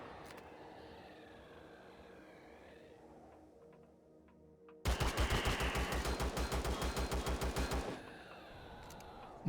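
Assault rifle fire in the sci-fi survival game Empyrion Galactic Survival: a loud, rapid burst of evenly spaced automatic shots lasting about three seconds, set between quieter stretches of low game ambience.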